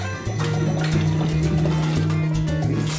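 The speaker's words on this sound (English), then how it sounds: "Turn the fuel pump on, so obviously you put it in the container" An electric fuel pump pushes petrol from a car's fuel line into a container, a steady pouring, splashing stream with a low humming drone underneath, close and continuous for the whole stretch.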